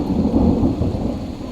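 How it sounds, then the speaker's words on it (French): Thunder rumbles low and steady through a rainstorm on an autumn day, a continuous loud roll mixed with the hiss of falling rain, with no voices. "Ça gronde mais il pleut mais ça va encore."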